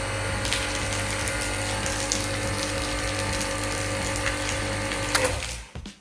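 A Kortex KTX-R5 pressure washer (2600 W, 220 bar) pumps water once the air is purged from its pipe, giving a steady, loud mechanical whirring rattle that runs continuously and then cuts off abruptly near the end.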